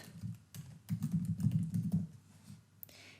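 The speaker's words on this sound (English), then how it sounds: "So what I can do now is I can go in here and I can type in MailChimp." Typing on a computer keyboard to enter a search term, a quick run of close, soft key clicks in uneven bursts, with no talking.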